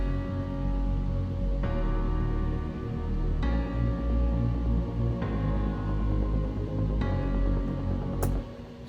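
A wide synth pad from a Nexus patch, doubled and panned hard left and right, forms a dense sustained atmosphere with chord changes every couple of seconds and no voices.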